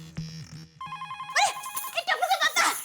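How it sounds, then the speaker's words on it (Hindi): A telephone rings for an incoming call in a household comedy scene, an electronic ringtone in repeating tonal bursts that gives way to a busier warbling tone, close and clear. "टप्पू का फोन आया, जल्दी टप्पू सेना को बुला, जल्दी टप्पू का फोन आया।"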